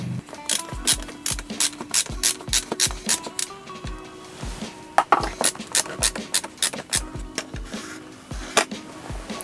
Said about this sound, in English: So now this is where your screwdriver comes in handy.